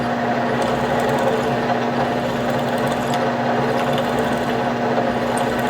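A milling machine cuts holes, giving a steady, loud mechanical drone with a constant hum and faint high chatter, unbroken throughout and with no voices.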